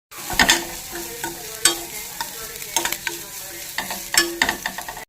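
Ground spice paste is fried in a pan with curry leaves and stirred, giving a bright close sizzle broken by repeated scraping strokes of the spoon against the pan.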